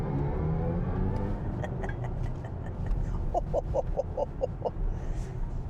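An electric SUV in sport mode drones steadily and revs up as it accelerates, with a run of sharp ticking clicks partway through.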